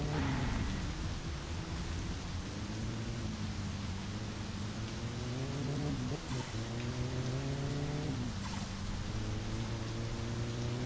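Rain falls steadily in the video game My Summer Car, a constant hiss over the low drone of a car engine whose pitch swells and dips twice.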